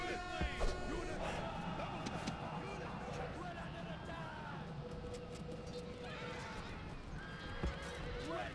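Horses neigh and whinny amid a busy battle soundscape in the strategy game Roma Surrectum, where Babylonian horse archers fight; loud, repeated calls with hoof clatter and constant battle din underneath.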